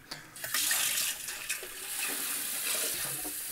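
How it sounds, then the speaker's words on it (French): Water runs steadily from a tap while the reservoir of an automatic coffee machine is rinsed, a close, continuous splashing flow that starts after a brief moment. "On va vraiment tout vider, tout rincer une nouvelle fois."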